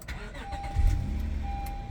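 A 9th-generation Honda Accord V6 engine cranks and catches, rising into a low, close rumble that settles into a steady idle.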